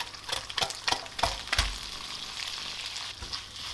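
Canned tuna warming with pasta in a frying pan gives a soft, steady sizzle broken by a few sharp crackles and stirring scrapes. It is close and fairly quiet, with no talking.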